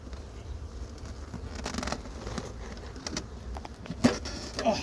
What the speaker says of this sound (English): A lot of bees, right? That is a lot of bees.